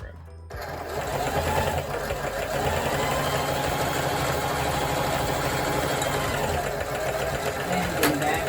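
Sewing machine running continuously along a T-shirt dress seam, a loud close mechanical buzz with steady needle rhythm lasting several seconds after a brief start.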